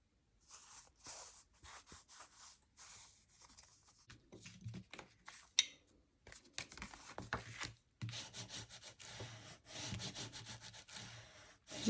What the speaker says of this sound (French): Je vais bien marquer mon pli, l'accentuer avec mon plioir.